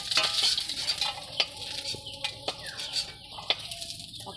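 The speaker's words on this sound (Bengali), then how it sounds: "ভাজার জন্য চিংড়ি মাছগুলো আমি দিয়ে দিচ্ছি।" Shrimp frying in hot oil in a wok give a steady bright sizzle with crackling pops and sharp spatter bursts throughout, close and fairly loud, with no talking.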